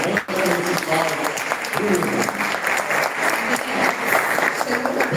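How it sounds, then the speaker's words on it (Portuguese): An audience applauds a music group at a Brazilian folklore gathering, a steady wash of clapping with voices and cheers mixed in throughout. "Aplaudam, por favor, este grupo maravilhoso."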